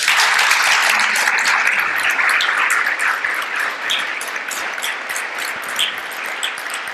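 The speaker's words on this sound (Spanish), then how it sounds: "Den un aplauso al Señor" A church congregation claps in praise to the Lord after a prayer, sustained crowd applause that is loud at first and then slowly thins and softens over several seconds.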